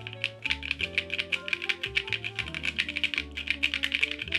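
Rapid, steady typing on a Vertex Arc 60 plateless mechanical keyboard fitted with JWK Oolong switches gives close, clacky keystrokes in an even rhythm over a soft tonal background, with no talking.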